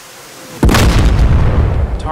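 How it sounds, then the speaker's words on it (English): A sudden loud boom erupts as rockets from an AV-8B Harrier strike a ground target in a flight simulator, followed by a rumbling, crackling roar that persists. "We will fire two rockets at once"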